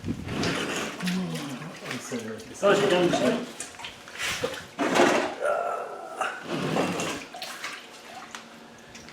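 Water spills and splashes in uneven bursts from a leaking Land Rover Defender 300 Tdi engine during gasket repair, close by, with someone talking over it.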